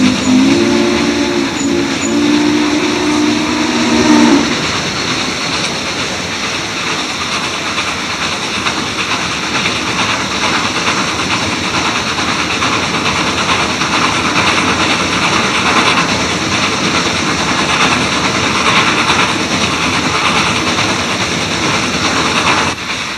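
Daylight Express steam locomotive working near Portland, a loud, continuous chuffing exhaust roar with a whistle tone sounding in the first few seconds before the heavy running noise carries on alone.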